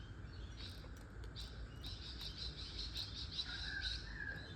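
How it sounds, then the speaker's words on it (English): Garden birds singing outdoors on a warm sunny day: a steady stream of high chirps and short trills that sharpens into brighter whistled phrases toward the end, set over a low rumbling background hum. "how can you not stay outside with those birds?"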